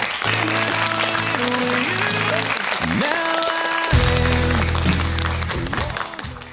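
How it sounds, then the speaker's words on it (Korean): A TV quiz show audience claps steadily for several seconds, a dense continuous applause with music playing underneath. "탈락한 원주 진광고에게 위로의 박수 부탁드립니다"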